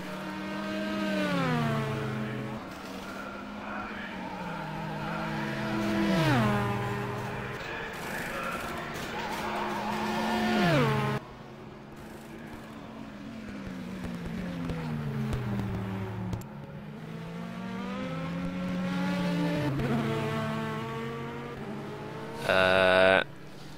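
Race cars in the rFactor endurance race at Interlagos roar past with rising and falling engine pitch, upshifting and downshifting through several passes, loud and close, with a brief sharp burst near the end.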